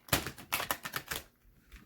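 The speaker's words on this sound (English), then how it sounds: "Just shuffle them real quick." Oracle cards are shuffled quickly by hand, making a close, crisp burst of rapid papery clicks and flutters that lasts about a second before stopping.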